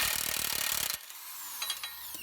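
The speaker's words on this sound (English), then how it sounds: "Next, we're going to remove this nut, and we're going to use a 32mm socket." A ratchet turns a 32mm socket to loosen the CV axle nut on a Dodge Grand Caravan minivan, giving a quick, close run of clicks for about a second before the clicking stops and it goes quiet.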